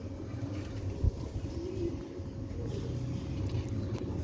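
Breeding pair of rooftop pigeons with chicks, soft low cooing running steadily underneath a continuous background hum, with one brief thump near the start.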